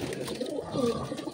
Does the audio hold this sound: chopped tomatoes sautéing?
no